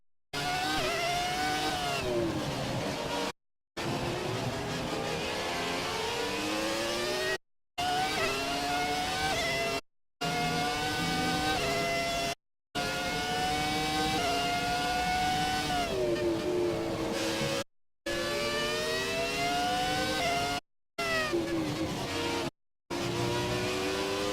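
Formula 1 car engine in the F1 2017 racing game at the Japan circuit, loud high-pitched revving that climbs and drops through gear changes, broken by several brief silent gaps.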